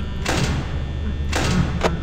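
Heavy metal security doors in the Five Nights at Freddy's video game slam shut in a few separate thuds spread over two seconds, with faint talk underneath.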